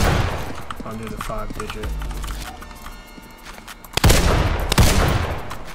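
Rapid AK rifle bursts in a crime-themed video game, sharp loud shots cutting in near the end over game sounds, with a player talking excitedly throughout.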